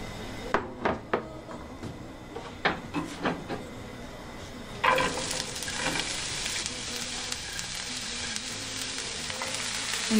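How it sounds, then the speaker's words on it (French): Onions frying in a small pan for an Iranian dish: a few sharp utensil taps and clatters, then a steady close sizzle bursts in midway and holds loud to the end. "Je vais faire frire les oignons"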